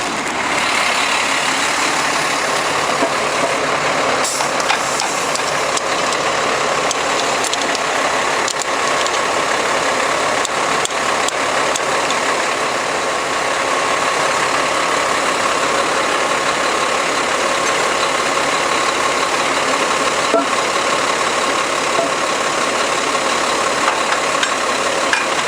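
The engine of a Vactor sewer-cleaning truck idles with a loud, steady, unbroken rumble and drone that stays close and constant throughout, with no voices.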